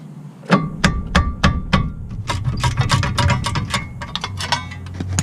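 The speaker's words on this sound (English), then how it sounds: "I'll just bend this heat plate" A tool strikes metal to bend the brake heat plate on a 94 Integra during a brake and rotor job, giving about a dozen sharp, close, irregular clanks with ringing metallic knocks in between.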